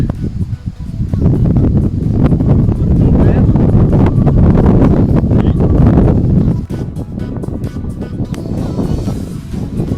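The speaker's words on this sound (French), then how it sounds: "on va avoir du vent qui va pousser un peu" Steady wind buffeting the microphone outdoors on a golf course at Sablé-Solesmes, a loud continuous rumble with gusts, easing slightly near the end.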